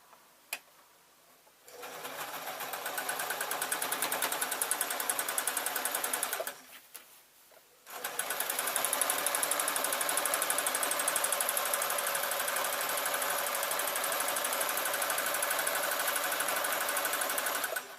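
A domestic sewing machine stitches jelly roll fabric strips onto a tote bag with a fast, even mechanical chatter in two runs, a brief pause between them, then a long continuous burst, close and clear without speech.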